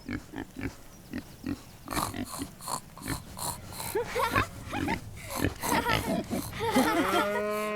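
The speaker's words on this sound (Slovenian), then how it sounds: "Pujsek. Pujski se oglašajo tako." Repeated pig grunts and oinks in quick irregular bursts, close and lively, with squealing calls building toward the end.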